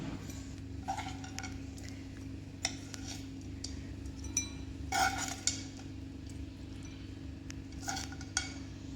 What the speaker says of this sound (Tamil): இப்போ இதை ஒரு பவுலுக்கு மாற்றிக்கலாம்.